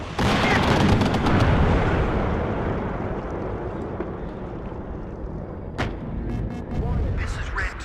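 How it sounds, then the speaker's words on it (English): Artillery fire in the Cold War strategy game Wargame: Red Dragon, a heavy rumbling barrage that slowly fades. A sharp blast comes near six seconds and more rumbling follows. "I hear missiles. Oh, it's got to be artillery."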